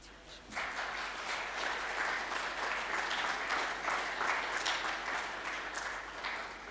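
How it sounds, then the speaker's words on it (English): Sustained audience applause at a power company's tenth-anniversary ceremony, steady dense clapping that swells in after a brief quieter start and continues evenly throughout. "Another round of applause, ladies and gentlemen, and congratulations to Safer Power on that wonderful accreditation"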